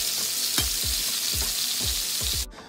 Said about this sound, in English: I dropped in my pieces so we can get a nice sear to start building flavor for our sauce